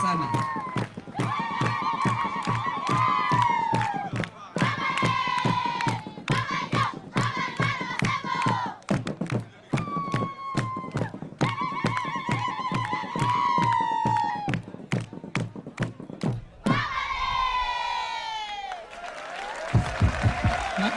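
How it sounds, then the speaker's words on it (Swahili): A crowd at an education event in Gatundu South, Kenya, claps steadily and rhythmically for their MP, with loud cheering and shouting voices over the beat. "Tumpigie makofi kabisa."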